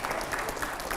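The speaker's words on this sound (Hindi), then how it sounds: "जोरदार तालियां हो।" Enthusiastic studio audience clapping on a televised Hindi debate show with Baba Ramdev, a dense, steady patter of many hands that carries evenly from start to finish with no voices over it.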